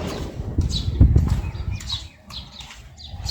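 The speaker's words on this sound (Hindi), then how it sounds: "देखते हैं चिड़िया उड़ती है। हाँ उड़ेगी, उड़ गई, बहुत सारी गई।" A flock of small birds takes off together from a village yard in monsoon season. Their wings make a close, loud flurry of rapid flapping that fades into scattered flutters.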